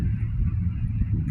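Geese honk in a park, loud and close, against a low rumble of background noise.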